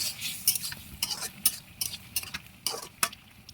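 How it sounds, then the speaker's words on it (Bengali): A spoon stirs bottle gourd and shing fish curry in a pot, giving a series of sharp metallic scrapes and clinks at an irregular rhythm over a soft simmering background. "এখন আমি আবার ঢাকনাটা তুলে নেব। একটু নাড়াচাড়া দিয়ে দিব।"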